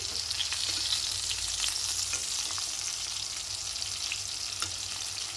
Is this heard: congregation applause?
no